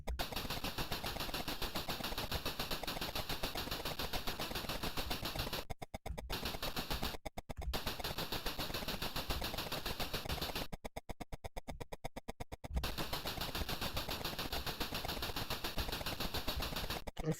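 Rapid, steady machine gun fire from the Cabal video game on the Commodore 64 rattles almost nonstop for about seventeen seconds, with a few brief gaps where the shooting cuts out.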